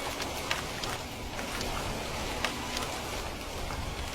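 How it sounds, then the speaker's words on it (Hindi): Heavy rain falls steadily as a dense, loud hiss, with occasional sharper drop impacts on a surface and no voices. "बारिश अब तेज होने लगी थी।"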